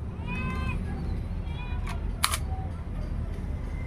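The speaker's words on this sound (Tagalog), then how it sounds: "Then lagay mo na yung magazine at i-open bolt." A magazine being inserted into a gun and the bolt opened: two sharp metallic clicks close together over a steady background hum, with faint tonal noises nearby.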